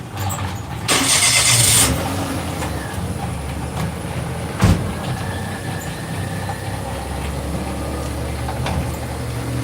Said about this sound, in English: I'm going to turn this car on.